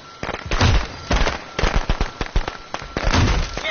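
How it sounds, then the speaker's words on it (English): Firecrackers going off in the video game Friday the 13th, a rapid, loud series of sharp crackling pops in irregular bursts with brief gaps between them. "And fireworks."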